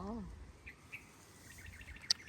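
Birds chirp and call in a wild, wooded patch near Bangkok, with a few short tweets scattered over a low outdoor hum and insect buzz, and a voice speaking briefly at the start.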